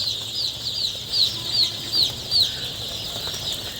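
Many small Tiger breed chicks cheeping in a steady chorus of high, repeated peeps, close by, over a faint low hum, at a poultry farm.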